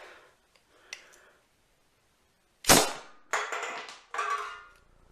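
A homemade air gun charged to 100 psi fires a hot glue stick with wadding: a sharp, loud pop with a brief rattling tail, followed by a couple of quieter clattering knocks, preceded by faint handling clicks.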